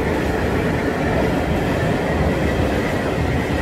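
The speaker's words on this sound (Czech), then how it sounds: "ještě mi jede vlak" A train passes close by near a small babbling garden pond, a loud steady rumble with rolling wheel noise filling the whole stretch, no voices.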